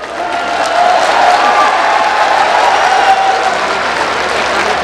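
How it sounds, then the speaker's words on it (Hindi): A large crowd at a political rally in Bhind breaks into sustained, loud applause that stays steady for several seconds, dense and close, with no clear speech over it. "आप ताली बजा रहे हो"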